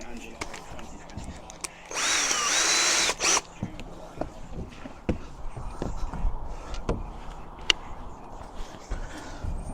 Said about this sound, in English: I'll just nip down and get my drill.